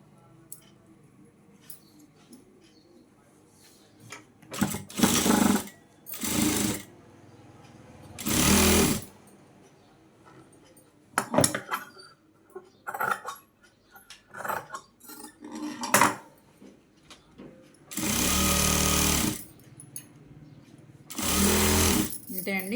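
A sewing machine stitches a petticoat in loud bursts of rapid whirring, several short runs and two longer ones, separated by quiet gaps with occasional handling noises and someone talking.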